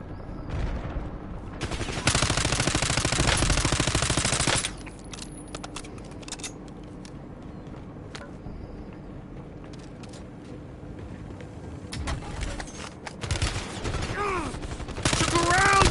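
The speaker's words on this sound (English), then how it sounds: "Taking effective fire." Sustained automatic gunfire from Call of Duty: Warzone rattles continuously for a couple of seconds, then gives way to scattered distant shots and clicks before firing picks up again near the end.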